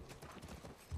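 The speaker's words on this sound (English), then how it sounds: "Look at this cute little horse." Horse hooves clip-clopping in The Last of Us Part 1, a soft rhythmic series of muffled thuds under a low game ambience, fairly quiet.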